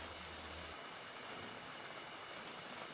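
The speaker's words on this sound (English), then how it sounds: "Outside, cold rain moves slowly through the endless pine trees" Cold rain falls outside among pine trees, a faint, steady hiss of drops that runs unbroken with no talking, and a low hum fades out early on.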